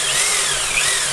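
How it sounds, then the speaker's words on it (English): A power drill bores mounting holes in a steady rest during metalwork, a loud, continuous close-up whine running without a break through the whole short burst. "I can drill and tap"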